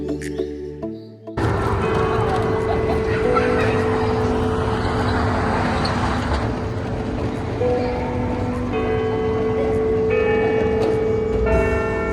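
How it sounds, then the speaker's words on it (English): The bell tower of the Santa Barbara County Courthouse rings out in long, overlapping resonant tones that carry on for over ten seconds, with faint street noise beneath. "Next up is the Santa Barbara County Courthouse with the bell tower, which you just heard."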